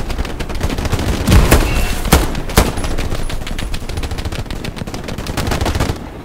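Dense gunfire in the World War II shooter Hell Let Loose, with rapid automatic bursts and several sharper, louder shots cracking through a continuous barrage of battle noise, heard without speech.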